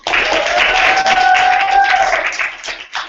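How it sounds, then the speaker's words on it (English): Audience applause fills the room at a training event, a dense steady clatter of clapping that holds strong for about two seconds before thinning out, with a sustained tone running underneath. "So big round of applause for Nikki Moore."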